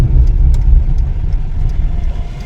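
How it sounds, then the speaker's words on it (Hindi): Hyundai i10 with a cylinder 4 misfire, driving on the road with the air conditioning running, giving a steady, close, low engine and road rumble throughout without any speech. "हमने गाड़ी को रोड पे ले लिया है और AC ऑन कर देते हैं"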